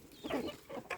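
Hens and chicks being fed apple pieces give a few soft, quick clucks, faint and close, in a short burst with brief pauses.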